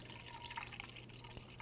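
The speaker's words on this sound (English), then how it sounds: "now we're going to fill up our radiator with new coolant" 50/50 pre-diluted coolant trickles through a funnel into the radiator of a 2011-2016 Hyundai Elantra, a faint, steady liquid pour with small drips.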